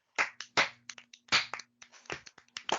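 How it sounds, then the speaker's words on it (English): A round of applause closes a panel discussion, with several quick, close bursts of hand clapping that rise and fall over a few seconds and no talking. "give yourself a clap, a round of applause"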